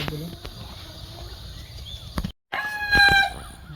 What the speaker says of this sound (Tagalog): And then they have chickens.